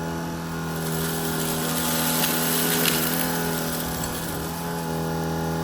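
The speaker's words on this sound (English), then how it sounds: "now let's test out the edge cleaning ability on this shark hoover" A Shark ICZ300UKT cordless upright vacuum cleaner runs on medium mode while cleaning along an edge, a loud, steady motor whine with strong tonal hum that swells slightly midway, heard alone.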